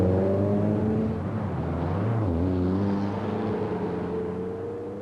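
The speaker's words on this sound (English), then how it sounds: "That's the BMW 2002 of Bjorn Voldegaard and Hans Thorselius, one of the hotter favourites." A BMW 2002 rally car drives on a stage of the 1973 RAC Rally. Its engine holds a loud, steady tone that dips briefly and then recovers, with no speech.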